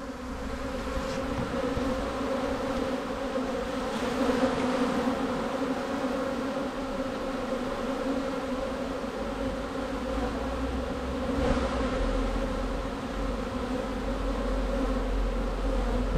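A dense swarm of honeybees buzzes continuously at a hive entrance, a layered droning hum that swells slightly at moments, with no voices.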